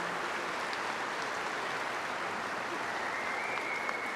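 Steady applause from a crowd at a Moose fraternal convention session fills the whole stretch, even and sustained, with no voices over it.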